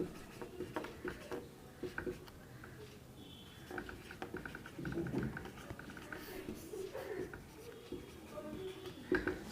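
A pen scratches out math on paper in short strokes and taps, faint and close, with soft rustling and a voice speaking intermittently.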